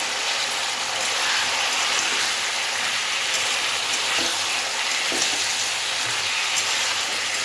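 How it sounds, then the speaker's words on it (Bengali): Curry with a few prawns and vegetables frying in a pan, a steady, dense sizzle that holds evenly throughout at close range with no voices. "খুব বেশি সময় ধরে তরকারিটাকে ভাজবো না"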